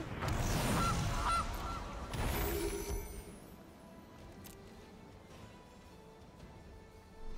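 A loud goose honk bursts out from the Gilded Goose card in the MTG Arena digital card game, followed by a second honk about two seconds later, then a quieter tail.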